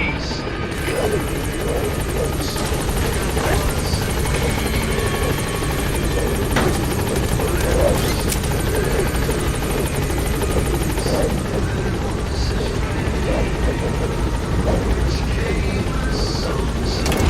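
Helicopter in Metal Gear Solid V settling onto a landing zone, a steady loud rotor drone running the whole time with a constant engine buzz and faint game effects layered on top.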